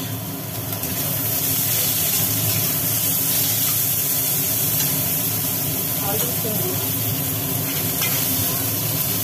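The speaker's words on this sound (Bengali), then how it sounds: "উচ্ছেটা একটু ভাজার পরে কড়ার মধ্যে পড়ে গেল পেঁয়াজ।" Sliced bitter gourd and onion frying in hot oil in a wok, a continuous dense sizzle with faint stirring scrapes, steady and close, while someone talks over it.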